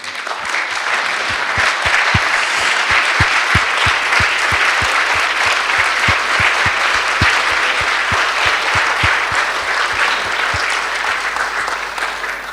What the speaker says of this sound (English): I would like you to stand up again and give them the warmest applause for an amazing evening